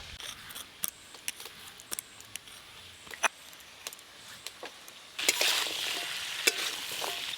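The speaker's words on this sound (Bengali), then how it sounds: "চাল কুমড়ো থেকে যে জলটা বেরিয়েছিল এইভাবে নেড়ে নেড়ে পুরো জলটা শুকিয়ে নিয়েছি।" Ash gourd cooked with small crabs is stirred in a pan as its released water dries off, with repeated spatula clacks and scrapes over a frying hiss that swells louder near the end.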